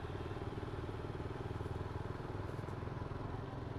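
Steady engine drone of a motorcycle being ridden on the road, a constant throbbing rumble heard close with no pauses and no clear talk.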